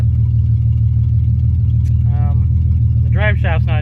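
A 1957 Plymouth engine idles steadily up close, a loud, even low rumble that continues throughout while someone talks over it briefly.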